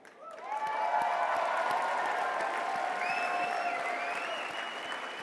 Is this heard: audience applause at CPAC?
yes